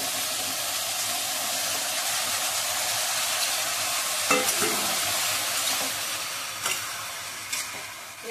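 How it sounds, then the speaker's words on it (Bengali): Vegetables fry in a hot pan with a steady broad hiss of sizzling oil, with occasional clinks and scrapes of stirring toward the end. "এবার তরকারিগুলো ঢেলে দেবো"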